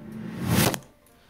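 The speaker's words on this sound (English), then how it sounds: "this here is a riser" A short whooshing swell rising in pitch and loudness, peaking sharply then cutting off into near silence.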